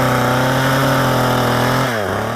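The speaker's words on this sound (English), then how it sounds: "He is a chainsaw carver, an artist bringing new life to logs." A chainsaw engine runs loud and close while a carver works logs into wildlife carvings outdoors at a preserve, holding a steady drone before the pitch sweeps and shifts near the end.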